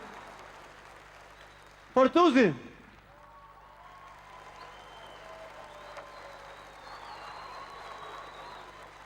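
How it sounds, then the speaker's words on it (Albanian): An audience at a live recital concert applauds; a loud shout rises near the start, then a steady spread of clapping continues at moderate level for several seconds. "Duartrokitje për Tiranën!"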